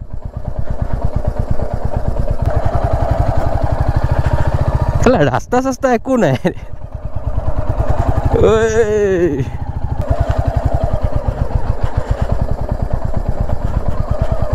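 A motorcycle engine chugs steadily and loudly on a rough dirt track near Pani Dihing Bird Sanctuary in Assam, with people talking briefly over the rumble partway through.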